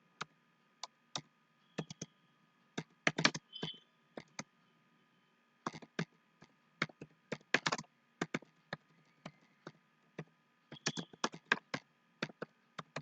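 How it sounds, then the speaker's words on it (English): Someone types a string on a computer keyboard, producing quiet, close, irregular key clicks in short bursts and single taps with brief pauses between, and no talking. "So I'll type here the same string that I've typed before"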